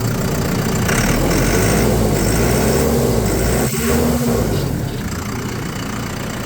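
A vehicle engine runs steadily at close range with a loud, rough, mid-low drone and a brief dip partway through, continuing until the end.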